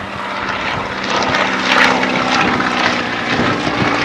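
A propeller-driven aircraft flies a display at Old Warden aerodrome, its engine drone steady and fairly loud, swelling slightly as it passes, with no voices.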